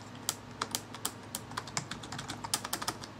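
Rapid typing on an Aula Befire mechanical gaming keyboard: a quick irregular run of crisp, close key clicks with no talking.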